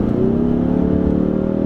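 A 2018 Ford Mustang EcoBoost engine pulling under acceleration, heard from inside as a steady, loud droning hum with a smooth rising tone and no talk over it.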